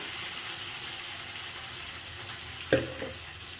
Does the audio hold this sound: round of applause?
no